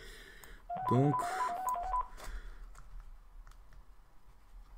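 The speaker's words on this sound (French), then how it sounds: "Le téléphone qui sonne." A telephone rings indoors with a short run of repeated electronic beeping tones lasting about a second, then fades into quiet room noise with a single brief spoken word.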